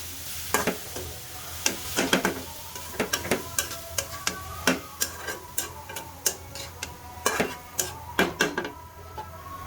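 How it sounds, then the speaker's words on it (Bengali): A spoon stirs bottle gourd bhaji frying in a pan, giving a run of sharp, irregular clicks and taps against the metal over a soft, steady sizzle, close and clear with no talking. "এখন হচ্ছে ভাজিতে আমি ভালো করে নেড়ে দিচ্ছি"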